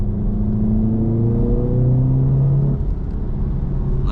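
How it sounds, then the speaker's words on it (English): An MK3 Audi TT engine revs hard and close, its drone climbing steadily through the gears and dipping briefly at a shift before pulling up again, with no speech over it. "it lets the gears rev like literally to the red before they change"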